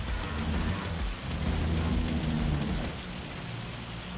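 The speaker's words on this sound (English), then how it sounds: "It's hailing." Hail and rain fall in the Farming Simulator 25 video game, making a steady, dense patter with a low rumble underneath for several seconds.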